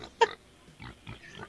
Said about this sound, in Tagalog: Umiyak na yung baboy ko eh.